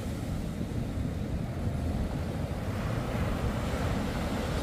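Ocean surf and breaking waves roll on steadily at a boating spot, a dense continuous wash with some wind noise across the microphone, no talking.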